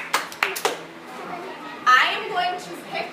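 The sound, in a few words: children clapping twice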